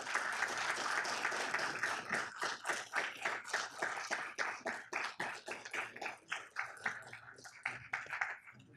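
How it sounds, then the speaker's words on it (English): Applause at a city council meeting for a Mayor's Legacy Award recipient, a room of hands clapping steadily, then thinning into distinct rhythmic claps from fewer people, moderately distant and fairly quiet. "I would like to please give a round of applause to Greg Welch for receiving the Mayor's Legacy Award"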